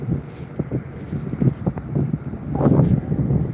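Gusty wind buffeting the microphone, a low rumbling roar that swells louder toward the end, with no talking.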